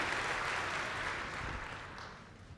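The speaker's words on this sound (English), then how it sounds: "Give yourselves a round of applause." A conference audience at an HR keynote applauds itself, giving a broad, continuous wash of clapping that gradually thins and fades toward the end.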